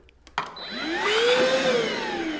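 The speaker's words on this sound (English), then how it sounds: "This would give you a vacuum function." A Craftsman 3-in-1 inflator working as a vacuum starts with a click and spins up into a steady, loud whirring whine that rises in pitch and then holds.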